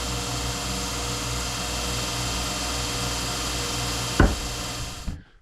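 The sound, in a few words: axe grinder sharpening axe edges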